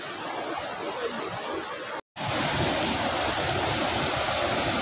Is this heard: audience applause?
no